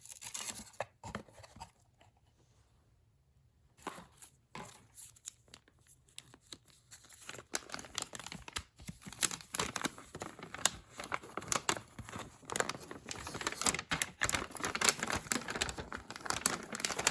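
Foam packaging is handled while a Bell Sonecor BE-50CWR caller ID box is unboxed, with soft crinkling, squeaky rubbing and rustles that start sparse and faint, then turn dense and continuous up close.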